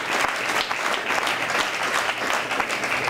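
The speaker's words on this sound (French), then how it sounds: "je pense que ça mérite une main d'applaudissement pour tous les participants." An audience at a Hydro-Québec civil engineering student challenge applauds all contest participants with steady, dense clapping that stays fairly loud and even throughout.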